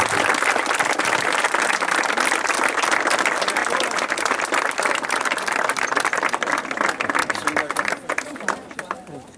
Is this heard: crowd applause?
yes